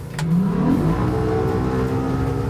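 A marine outboard motor with steering assist on a test run, its engine rising in pitch as it accelerates, then holding a steady loud hum.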